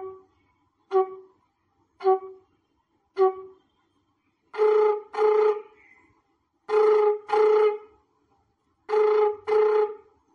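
A performer imitates a telephone ringing tone, most likely on a flute, at a music event: three short single beeps, then paired double rings repeating in a steady ring-ring pattern, clear and alone.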